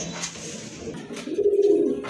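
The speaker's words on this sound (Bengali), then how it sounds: "খুবই কোয়ালিটিফুল এক জোড়া কবুতর" A pair of pigeons cooing close by, soft low throaty coos rising into a longer rolling call near the end, with faint background rustle.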